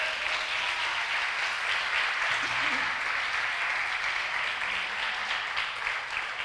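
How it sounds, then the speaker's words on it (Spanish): A church congregation applauds during a sermon: steady, dense clapping fills the whole stretch at an even level, with a faint voice underneath. "Aplauso a esa Biblia sagrada."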